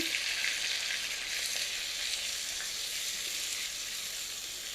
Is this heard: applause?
no